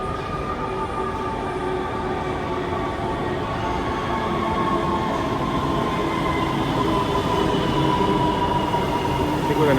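LA Metro train riding from Downtown LA toward the cruise seaport, heard from inside the rear car: a steady loud rumble of wheels and motor with faint rail whine, continuous throughout, no talking.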